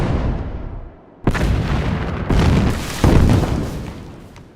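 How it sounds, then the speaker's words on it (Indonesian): A heavy German artillery barrage in a war film booms loud and close, with several deep blasts arriving in quick succession and rumbling on between them, and no voices. "Setelah serangan artileri berat Jerman berakhir"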